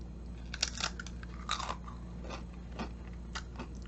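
Doritos chips are crunched and chewed close up in a series of crisp bites and crackling chews at an irregular rhythm over a steady low hum.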